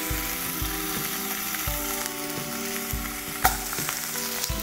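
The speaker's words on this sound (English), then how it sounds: "It starts sizzling right away" Salmon sizzles skin down in a smoking hot pan, a steady, dense crackling hiss with occasional sharper pops, close and continuous with no talking.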